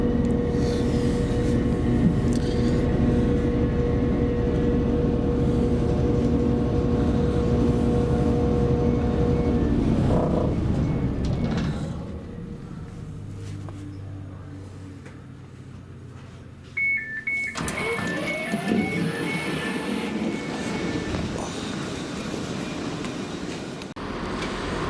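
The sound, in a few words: train at a station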